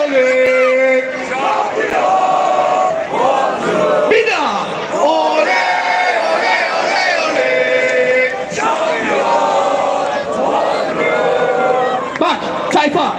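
Crowd at a Bodrumspor football club celebration in Turkey cheering and chanting loudly and continuously, a dense roar of many voices with rhythmic shouts rising and falling throughout, with no break.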